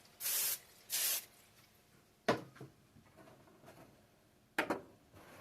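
Two quick hissing bursts of aerosol cooking spray onto parchment paper, followed by a few soft thuds and taps; quiet, no speech.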